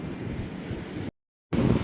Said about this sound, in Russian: Поснимаю вам волны.